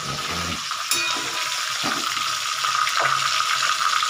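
Fish pieces frying in hot oil give a steady, bright sizzle that runs throughout, close and fairly loud, with a couple of light clinks.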